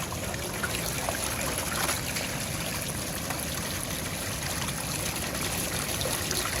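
Water from an 1100 GPH pump runs through a 6-foot hose and flows over a Gold Hog wave mat set at a 10-degree angle on a beach, a steady close trickling wash with no pauses.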